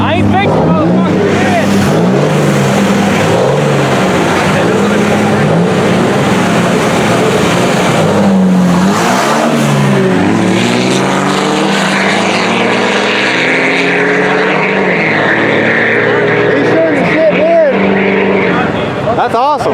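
Dodge and Duramax diesel trucks drag racing in Mexico, a loud sustained engine roar that rises and shifts in pitch as the trucks pass, with crowd voices mixed in throughout.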